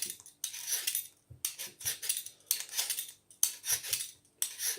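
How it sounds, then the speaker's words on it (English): A potato being peeled with a vegetable peeler while being twisted around, giving repeated rough scraping strokes in an irregular rhythm, close and fairly loud, with short pauses between strokes and no talking. "we're just going to very carefully just peel it all the way around, just twisting the potato around as you go"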